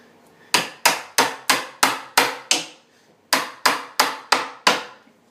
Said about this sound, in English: A little more chiseling there to get those last bits of wood out.